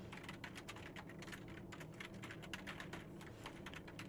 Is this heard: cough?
no